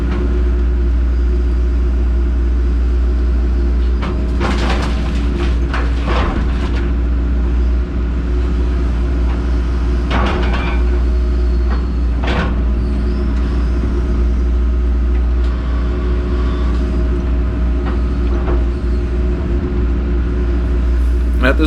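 An excavator digs material out of a manhole while its diesel engine rumbles steadily. Sharp scraping clanks from the bucket break through the engine noise a few times.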